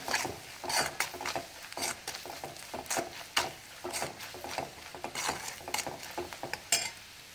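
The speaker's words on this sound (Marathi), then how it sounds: "मी 2 ते 3 चमचे चटणी टाकून घेते आणि आता अर्धा मिनिट हे छान परतूया तेलात" A spoon stirs and scrapes dal-onion chutney frying in oil in a pan, with soft, close, uneven scraping and light clinks and a faint sizzle underneath.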